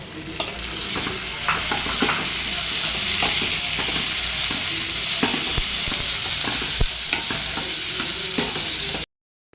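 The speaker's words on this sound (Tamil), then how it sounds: "தக்காளி நல்லா வதங்கிடுச்சு" Continuous sizzling of tomatoes sautéing in a frying pan, with occasional scraping and stirring clicks of a utensil, close and steady until it cuts off.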